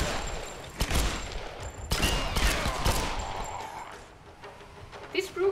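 Bursts of gunfire from enemies in Tomb Raider (2013) fighting near a monastery, several sharp shots spread across a few seconds with a final cluster of rapid shots at the end, medium distance, over a busy game background.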